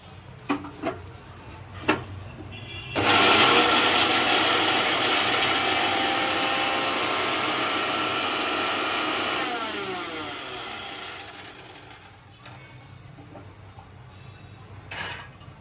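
A mixer grinder whirs loudly for about nine seconds while grinding dabeli chutney ingredients, a steady motor whine that slowly fades and winds down, with a few light clinks before and after.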